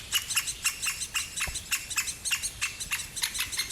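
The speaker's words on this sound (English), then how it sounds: "as we were going back to the car, we heard this chirping sound" Baby great spotted woodpeckers in a nest give rapid, repeated high chirps in a steady, insistent rhythm, close and clear, with one brief low knock midway.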